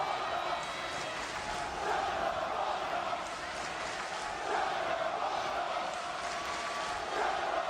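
A wrestling arena crowd roars and shouts steadily throughout, a dense continuous wall of voices without letup, with no single voice standing out.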